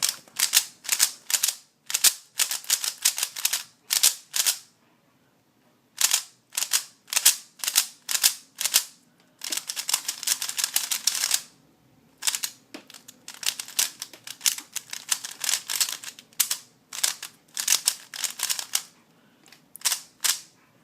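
A lubed Guhong v2 puzzle cube being turned, with quick bursts of dry clicking and clacking that come in rapid runs separated by short pauses. It is close and fairly loud, with no talking.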